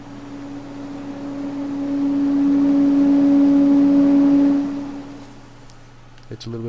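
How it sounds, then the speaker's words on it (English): A steady computer exhaust fan hums with a low whirring tone that swells louder in the middle, then eases off, ending with a few clicks. "I reinstalled this exhaust fan."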